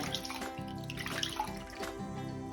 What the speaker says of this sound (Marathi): अगदी स्वच्छ असा मुळा धुवून घ्यायचा आपल्याला।